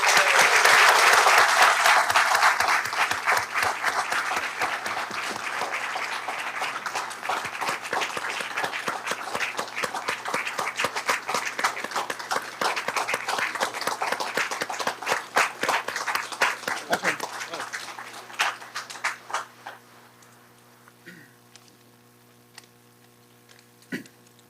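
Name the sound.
applause for students at a school board meeting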